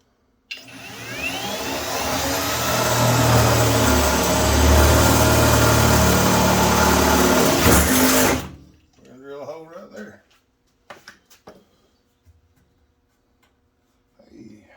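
A sharp drill bit bores through metal for a lathe tool holder, the motor running loud and steady for about eight seconds before cutting off, followed by quiet handling clatter and brief talk.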